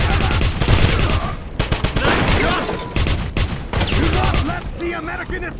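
Dense bursts of automatic gunfire rattle loud and close in the Wolfenstein video game's church mission, with short breaks between volleys and faint voices mixed in.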